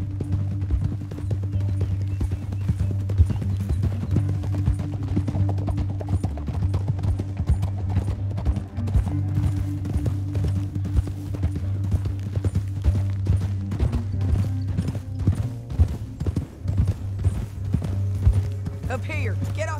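Rapid rhythmic galloping hoofbeats in Red Dead Redemption 2 pound continuously under a low droning rumble, with scattered sharp cracks and voices speaking over it.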